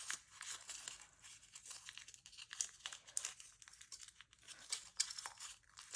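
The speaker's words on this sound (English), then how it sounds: "I'm just going to go ahead and fold the diamonds" Paper being folded into diamond shapes for a rosette, a steady close crinkling and rustling with small crisp creases throughout, no voices.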